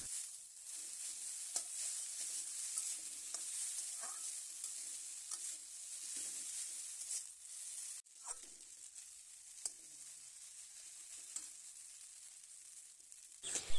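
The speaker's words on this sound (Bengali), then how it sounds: "এইবার আমি সিদ্ধ করে রাখা চাউমিনটা দিয়ে দেবো। চাউমিনটা নাড়িয়ে একটু ভেজে নেব।" Boiled chowmein noodles with egg are stirred and fried in a pan, giving a steady broadband sizzle with scraping clicks and pops throughout, close and alone.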